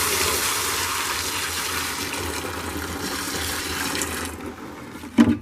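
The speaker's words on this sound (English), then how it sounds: "Now I'm just going to pour the evaporest." Used Evapo-Rust poured steadily into a bucket holding car rims, a continuous liquid rush and splash that runs for several seconds before tapering off, ending with a brief knock.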